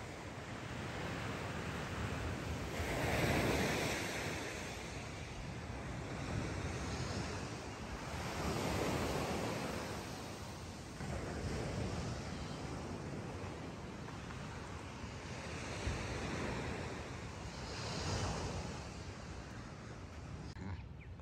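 Steady ocean surf and gusting wind on the coast of La Guajira, with broad rolling waves swelling and receding every few seconds under constant wind noise on the microphone, no voices.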